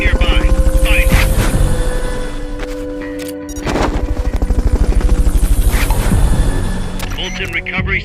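Helicopter in the Metal Gear Solid Peace Walker video game, a loud, close rhythmic rotor thump running throughout with a brief dip midway, mixed with game effects and voice lines.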